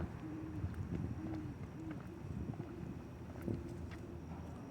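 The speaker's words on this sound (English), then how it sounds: "It's two owls communicating with each other." Two owls hooting back and forth at night outdoors, soft low hoots repeating irregularly, distant and faint over steady wind noise.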